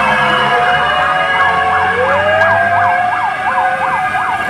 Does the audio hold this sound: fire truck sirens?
yes